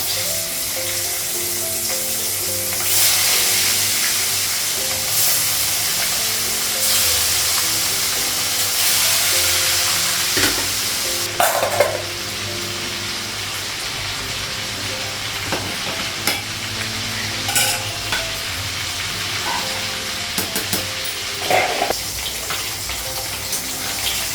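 Fish frying in a pan with a bright, continuous sizzle and spatter, broken by occasional sharper crackles and clinks of handling, close and steady with no speech.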